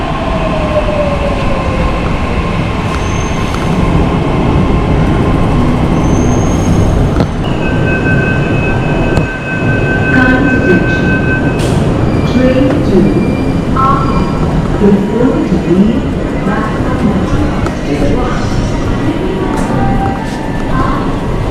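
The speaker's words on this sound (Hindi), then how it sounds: "दूर से हमारी मेट्रो आ रही है" A Mumbai metro train rolls in on a suspended track with a heavy, continuous rumble and high wheel squeals, with brief faint voices nearby.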